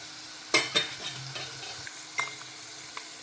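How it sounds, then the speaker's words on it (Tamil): Peanuts, chana dal, mustard seeds, dried red chilies and curry leaves fry in hot oil for a tempering, giving faint sizzling with a few sharp pops and crackles spread unevenly, no voices. "அதுக்காக தாளிக்க போகிறேன்."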